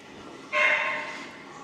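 A single dog bark or yelp rings out, fairly close, over a quiet campsite shower block background in Brixham, Devon.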